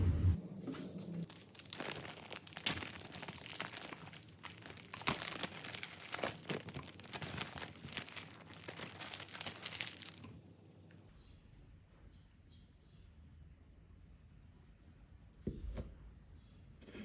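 Homemade tempeh's plastic packaging crinkles and tears loudly in close, busy bursts for about ten seconds, then only a faint quiet background remains with a brief soft knock near the end.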